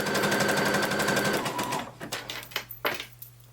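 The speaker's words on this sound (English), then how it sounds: "I'm just keeping it taut right there on the fabric and zigzag stitching it on" A sewing machine zigzag stitches a strap held taut onto dress fabric, a loud close continuous whir that stops after about two seconds, followed by a few soft handling taps.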